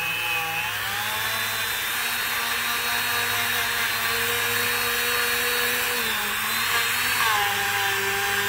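Polishing pad buffing pitted bare aluminum, a loud continuous motorized whine with shifting pitch as the pad moves around, close and steady throughout.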